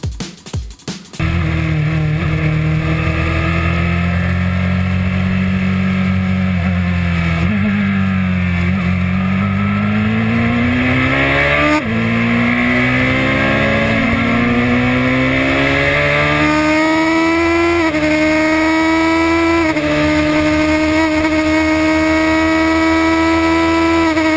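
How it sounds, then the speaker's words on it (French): A high-revving Caparo T1 race car engine roars continuously up close on the Nürburgring, its pitch climbing and dropping through gear changes at speed. "la vidéo buzz de la semaine vous place à bord d'une Caparo T1 sur la piste du Nürburgring"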